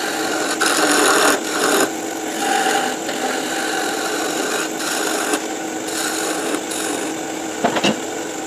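A wooden drop spindle is turned and tapered on a lathe, a continuous loud rasping scrape of the cutting tool against spinning wood that swells and eases in pulses.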